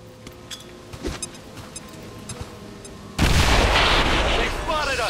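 A grenade explodes in the video game XCOM 2, a sudden loud blast of broad noise that rumbles on for about two seconds after a stretch of quieter game sounds and faint clicks.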